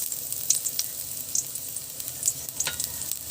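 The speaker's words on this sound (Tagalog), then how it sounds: "Susunod ko na ang ating sibuyas." Onion sautéing in a pan for a mung bean dish with roast pork, a close, steady sizzle with crisp popping spatters and stirring scrapes, no talking.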